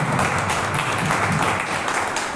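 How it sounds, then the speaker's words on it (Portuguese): Applause at a church worship service, steady dense clapping from a congregation filling the space at even loudness throughout, with no talk over it. "O Senhor Jesus, uma linda salva de palmas."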